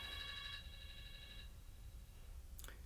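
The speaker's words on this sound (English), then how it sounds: "My damn phone ringing." Phone ringtone, a short electronic ringing burst of stacked tones that stops after about a second and a half, faint and alone over low background hum.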